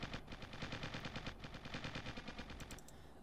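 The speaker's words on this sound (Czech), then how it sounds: "Někdo po mě střílí, pane." Rapid automatic gunfire in the Original War video game rattles in a fast continuous burst, loud and close, fading near the end with a few sharp metallic clicks.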